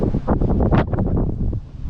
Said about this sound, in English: holy crap, it is windy